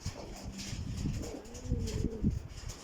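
Soft, low pigeon coos repeated a few times close by, with light background noise.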